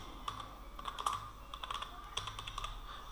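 Fingers type on a computer keyboard in quick, light, irregular bursts of clicks, close and fairly quiet over a low steady hum.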